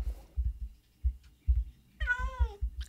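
A cat in Minecraft gives a single clear, drawn-out meow near the end, heard over a series of soft, low, rhythmic thumps.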